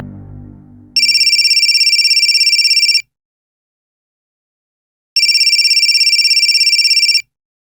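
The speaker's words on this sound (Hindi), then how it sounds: "आनंद बेटा, तुम्हारा फोन बज रहा है।" A mobile phone rings twice, each burst a bright electronic two-second ringtone, loud and close, separated by a couple of seconds of silence after a brief low rumble at the start.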